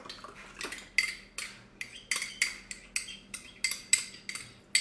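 A metal spoon stirs yeast into milk in a bowl, making a rapid, regular series of bright scraping clinks against the side, close and clear with no talking.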